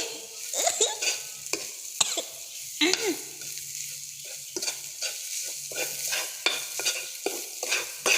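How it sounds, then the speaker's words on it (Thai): Shallots frying in hot oil, stirred with a utensil that scrapes and taps the pan in repeated bursts over a steady close sizzle, with no talking. "ขั้นแรกเราก็ใส่น้ำมันแล้วก็ใส่หอมเจียวเข้าไป"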